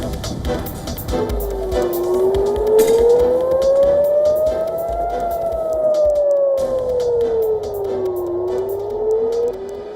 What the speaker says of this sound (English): Air sirens triggered across Israel as Iran fires first missile salvo